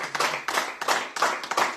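Small group clapping at a bistro-style radio show celebration, several short bursts of handclaps in quick succession, close and fairly loud, no voices over it.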